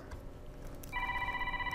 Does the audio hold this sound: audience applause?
no